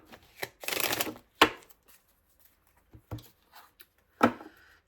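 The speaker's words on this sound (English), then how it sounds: "So I'm splitting the deck and shuffling that way." Cards riffle in a short crisp burst, followed by a few sharp taps and soft flicks as the deck is handled, with quiet gaps between.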